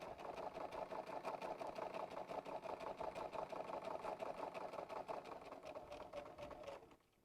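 A sewing machine stitches fabric for a pencil pouch in a fast, even, rhythmic whirr. It runs continuously at close range and then stops just before the end.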